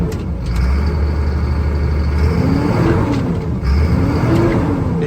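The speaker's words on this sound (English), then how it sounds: "And we'll go ahead and start or rev it up for you a little bit." A 1998 Chevrolet C6500 flatbed diesel truck runs loud and close, with a steady heavy engine drone and a couple of swelling revs over its continuous rumble.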